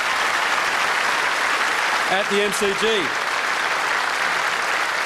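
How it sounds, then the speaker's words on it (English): Loud, continuous crowd applause at an AFL Grand Final breakfast event held at the MCG, with a voice speaking briefly over the clapping midway. "Give him a round of applause."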